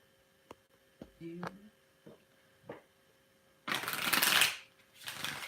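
Scattered soft taps give way to a dense riffling burst of cards being shuffled, then a shorter flutter at the end, close up.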